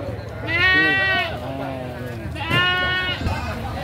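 A goat at the Tulungagung livestock market gives two loud, wavering bleats about two seconds apart, close by, amid market murmur.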